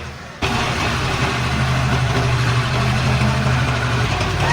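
A heavy truck engine roars steadily and loudly under strain while hauling a tractor out of deep mud, a sustained low rumble that starts abruptly and holds for several seconds.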